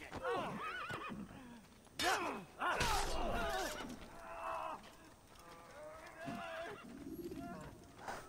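A horse in the video game Assassin's Creed whinnies and snorts amid hoof clatter and rustling movement, with bursts of louder activity, fairly close, mixed with voice-like sounds.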